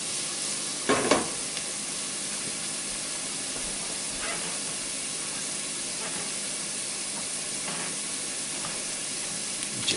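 Marinara sauce simmers in a pan with a steady, soft sizzle and hiss throughout, plus a few brief stirring scrapes near the start and middle.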